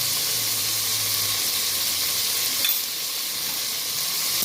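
Biryani paste frying in a pan for pudina (mint) rice, with a loud, continuous close-up sizzle and hiss and faint scraping as it is stirred.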